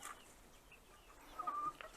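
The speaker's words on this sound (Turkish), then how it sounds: "Üçü de tavuk." A few quiet clucks from three four-to-five-month-old chickens sound close by, brief and scattered over a calm background.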